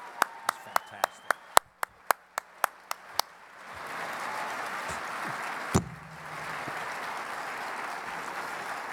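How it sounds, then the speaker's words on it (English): Applause for Chief Warrant Officer 5 Debbie Sharp begins as about a dozen loud, evenly spaced single claps, then swells into a sustained crowd round of clapping that continues to the end, with one sharp knock in the middle. "please give Chief Warrant Officer 5, Debbie Sharp, one more round of applause"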